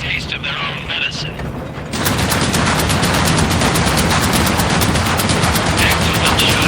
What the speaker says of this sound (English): Lieutenant, get on the flak cannon